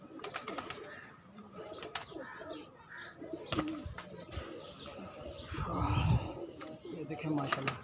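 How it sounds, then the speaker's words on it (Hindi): Pigeons coo on a champion fancier's rooftop loft, soft repeated calls with a few chirps and a brief flutter of wings, under steady nearby conversation. "ये देखें कबूतर"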